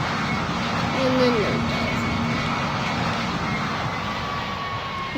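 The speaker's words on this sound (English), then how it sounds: "we just turn off the engine and parachute" A propeller aircraft engine in a video game, a steady loud drone with a constant hum held throughout, while a person talks over it.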